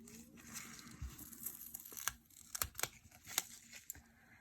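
Quiet snips and crinkles as a paper nail form is cut to fit a square nail, with several small sharp clicks in close succession.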